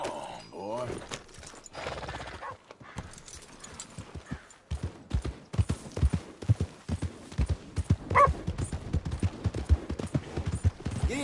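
A horse's hooves clip-clop in a brisk, uneven rhythm as a rider moves along in Red Dead Redemption 2. A short whinny and a voice come early, then the hoofbeats grow steadier and louder.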